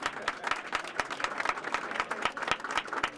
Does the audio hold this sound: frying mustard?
no